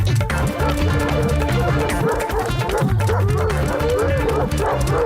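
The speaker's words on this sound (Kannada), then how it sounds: "ಬೀದಿ ನಾಯಿಗಳೆಲ್ಲ ಒಟ್ಟಿಗೆ ಓಡ್ ಬರ್ತಾ ಇವೆ ಕಣ" Several street dogs in a cartoon town bark and yip together, an excited, overlapping chorus that keeps going without a break. It sounds close and loud against lively background music and sound effects.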